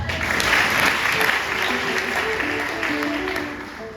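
A church congregation at a Voice of Peace gathering claps together in a dense, sustained round of applause that slowly tapers off, with a voice speaking over it.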